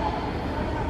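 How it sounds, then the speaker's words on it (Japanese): A Nankai 1000 series electric train pulls into platform 3 at a station, giving a brief, close, steady rumble of wheels and motors. "まもなく3番乗り場に電車が到着します。"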